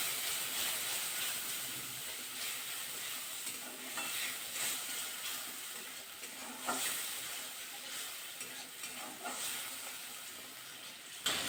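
Spice paste with chili and bay leaf sizzles in hot oil for a taro and soya chunk dish, giving a steady broadband hiss with scattered stirring scrapes throughout, fairly close and without talk.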